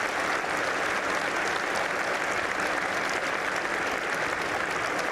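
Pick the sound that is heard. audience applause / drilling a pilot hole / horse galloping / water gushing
audience applause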